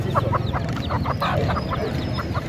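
Desi egg-laying hens and roosters clucking at a busy bird market in Karachi, a steady run of close, overlapping clucks over a dense crowd murmur.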